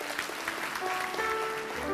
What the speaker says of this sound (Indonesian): Puji Tuhan, kasih tepuk tangan untuk Tuhan.